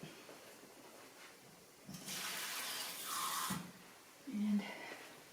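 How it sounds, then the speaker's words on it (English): Water runs from a tap for a couple of seconds to add a little to biscuit dough, a soft hissing pour in a quiet kitchen with faint handling noises after. "I think I'm going to get just a little touch of water because I do like that."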